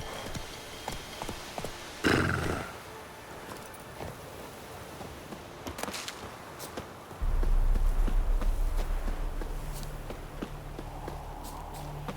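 The horse Roach from The Witcher 3 is first heard as scattered hoof clops, then breaks into a steady, close gallop of rhythmic hoofbeats over a low rumble that carries on to the end.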